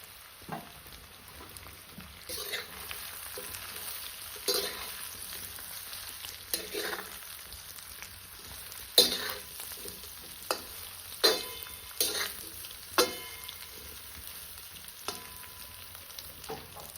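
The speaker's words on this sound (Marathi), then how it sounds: "फोडणी तळलेली आहे कारली टाकून देऊ त्याच्यामध्ये भरलेली" Stuffed bitter gourds fry in spiced tempering oil on a village wood-fired clay stove. A soft, steady sizzle runs under repeated sharp clacks of stirring.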